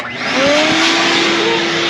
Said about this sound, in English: Let's get the vacuum cleaner on them really quick and suck all that crud before we mess around much more.